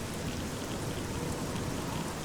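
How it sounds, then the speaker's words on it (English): Steady rain pouring over the wasteland in Fallout 3, a dense, even hiss of falling water heard alone and close for the whole stretch. "I mean, it's raining."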